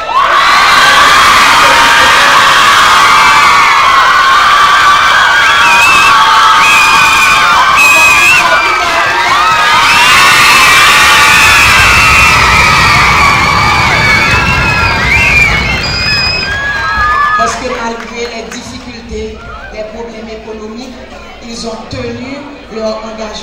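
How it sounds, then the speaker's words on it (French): Parents in an audience at a dance school gala cheer, shout and whoop loudly with children's voices mixed in, a dense crowd roar that gradually fades toward the end as a voice talks over it. "Maintenant, les parents, vous les applaudissez"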